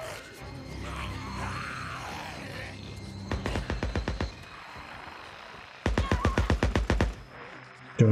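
Two rapid bursts of automatic gunfire in the video game Days Gone crack out loud and close, each a quick string of evenly spaced shots, with quieter background sounds between them.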